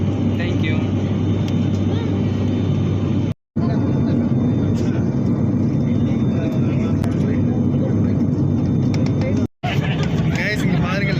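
Airplane cabin during landing: a loud, steady, broadband roar of engines and airflow fills the space continuously, with faint passenger voices mixed in and two abrupt momentary dropouts.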